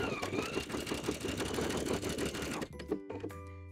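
Home sewing machine fitted with a buttonhole foot stitches a manual buttonhole on a wrap skirt, a steady rapid whirring chatter of needle strokes that stops abruptly near the end, leaving a faint mechanical hum and a few clicks.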